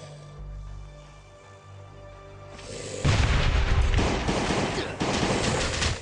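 Mine explosion in the survival video game Last Day on Earth: a loud burst strikes suddenly and is followed by a dense, roaring rumble with a second sharp blast a couple of seconds later, close and full over low game background.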